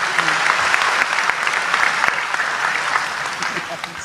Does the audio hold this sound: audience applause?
yes